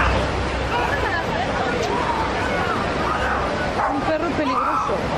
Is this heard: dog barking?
yes